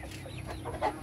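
Young pullet hens on a farm, soft close clucking and low murmuring calls with one brief louder cluck near the end.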